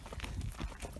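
Unshod horses walk over pasture ground, soft irregular hoof thuds in a loose walking rhythm, quiet and close, with no talk.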